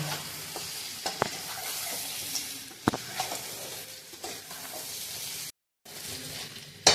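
Mutton curry sautéing in a pan, a steady close sizzle broken by scraping and knocks from a stirring utensil, with one brief silent gap near the end.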